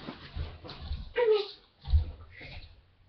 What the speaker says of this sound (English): There's my new puppy.